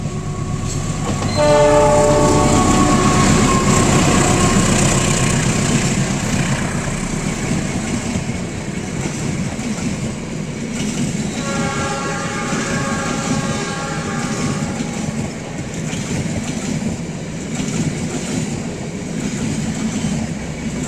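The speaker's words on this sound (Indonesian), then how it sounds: "persiapan melintas kereta api Parahyangan dari arah timur menuju tujuan akhir stasiun Gambir" A Parahyangan passenger train rolls steadily past at close range at Sasaksaat station in West Bandung, Indonesia, for about twenty seconds, its horn sounding early on and again midway over a continuous rumble and clatter.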